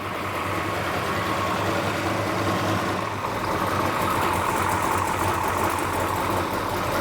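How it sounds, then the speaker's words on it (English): Racecar engine idling steadily with a loud, dense rumble and a constant rapid ticking clatter from noisy rocker arms, close by with no voices. "Rockers are a little noisy."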